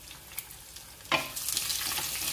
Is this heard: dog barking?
no